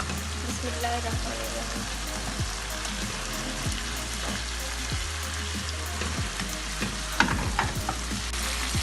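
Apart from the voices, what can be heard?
fried fish being added to korma masala and sizzling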